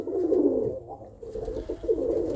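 Irish Old School Tumbler pigeon cocks cooing close by, a couple of soft throaty rolling coos in quick succession, heard alone without talk.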